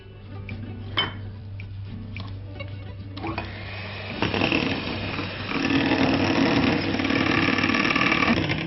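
An electric beater whirs through a sugar mixture with milk in a Bangladeshi kitchen, a steady close motor drone that grows louder and busier partway through, with light clinks of the bowl and no talk.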